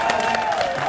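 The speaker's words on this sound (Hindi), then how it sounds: "ये ताली किस बात पे बज रही है?" A crowd clapping at a political rally, a dense, continuous patter of many hands heard from within the gathering, loud and steady, with voices mixed underneath.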